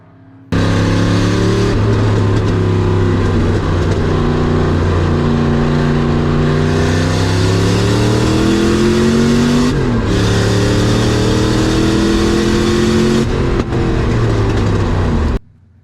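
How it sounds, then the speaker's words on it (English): A Corvette engine revs hard on a track and climbs through gears, dropping briefly at a shift, then pulling again loudly and close for the whole stretch. "This is Doug's first lap driving the car."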